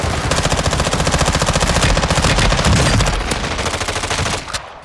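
Rapid automatic gunfire in the battle royale shooter Call of Duty Warzone, a loud sustained burst of evenly spaced shots lasting several seconds before cutting off abruptly.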